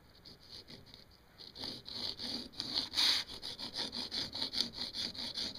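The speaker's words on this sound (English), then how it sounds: "Next, I want to file down the sides of my LEDs." LEDs are rubbed back and forth on a sanding block to file their sides flat, a rhythmic series of raspy scraping strokes that start faint and grow louder and steadier, close up.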